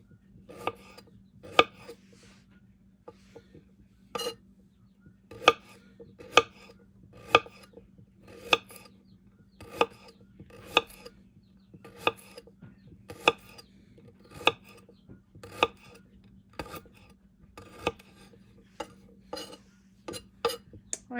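A knife chops four or five rinsed roots for fire cider in crisp, fairly regular strikes, about twenty across the stretch, each a sharp near tap on the board over a low steady hum.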